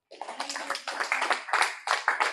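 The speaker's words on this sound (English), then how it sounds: "Clap for him." A small audience claps for an 86-year-old man, a quick run of uneven hand claps that builds and pulses in bursts at moderate loudness.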